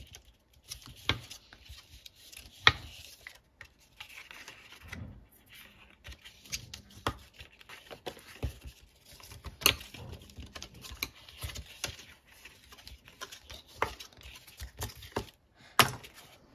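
Fold lines scored on scrapbooking paper for a Christmas gift ball, a series of short, sharp scraping ticks and taps at an uneven pace, close and fairly quiet, with gaps between strokes and no voice.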